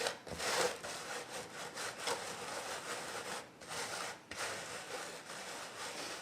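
Finely ground throw material for a model railway layout rubbed by hand through a very fine mesh screen, a steady close scratchy rasping with rhythmic strokes and a couple of short pauses.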